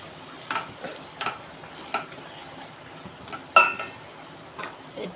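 Gongura leaves sizzle in a pan for a raw prawn and gongura curry, a soft frying hiss broken by several distinct scrapes and clinks of a spoon stirring at an uneven pace.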